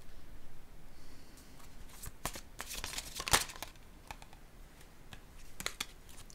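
A card drawn from an oracle deck: soft papery shuffling and sliding with a few crisp flicks, close but faint, over quiet background hiss.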